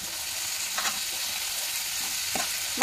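Tomatoes with turmeric and a little red chili powder fry in hot oil, a close, loud, continuous sizzle with a couple of soft stirring scrapes and no voices.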